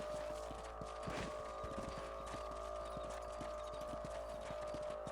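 Horse hooves clip-clopping at a steady riding gait in Red Dead Redemption on PS3, a rhythmic run of hoofbeats heard over a constant low ambient hum while riders patrol a farm property.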